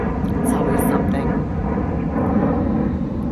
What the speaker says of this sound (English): Sorry about the plane. I guess I'm near the airport.